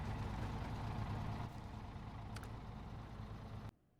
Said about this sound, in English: I like how that truck sounds, though.